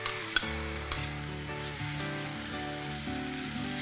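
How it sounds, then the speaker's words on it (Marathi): Tomato paste going into a pan of frying ginger, garlic and coriander paste for a rohu fish curry, with a steady close sizzle, a couple of sharp clinks early on, and no talking. "आता मी 2 टोमॅटो मिक्सरला बारीक वाटलेत, त्याची पेस्ट ही ती टाकणार आहोत"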